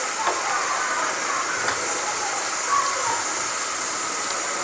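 Sliced onions fry in a little oil in a pan, giving a steady, even hiss and sizzle that holds at the same level throughout with only faint occasional pops.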